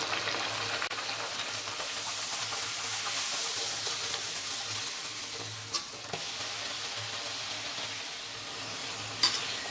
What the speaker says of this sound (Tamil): இப்போ தேய்ச்சி வச்சிருக்கிற பூரிகளை போட்டு எண்ணெயில் சுட்டு எடுத்துக்கலாம்.